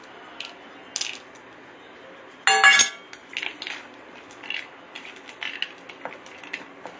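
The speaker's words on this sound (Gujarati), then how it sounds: "હવે એમાં આપણે જે કાજુ બદામ રોસ્ટ કરેલા છે એ આપણે ઉમેરી દઈશું." Roasted cashews and almonds tip into a ghee mixture with a sudden rattling clatter of nuts against a metal pan, followed by lighter scattered clinks and stirring scrapes, close and clear.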